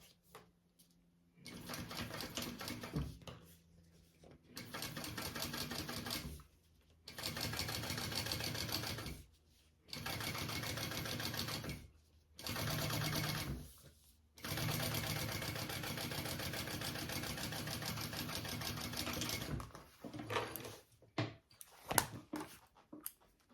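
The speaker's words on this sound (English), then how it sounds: "I'm going to top stitch along my top panel" Sewing machine top stitching a bag panel, running in five or six sustained bursts of rapid whirring separated by short pauses, then a few scattered clicks and taps near the end.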